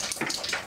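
Rainwater pours through an apartment ceiling after heavy downpours, making a loud, continuous splashing rush of water that floods the rooms, with no voices.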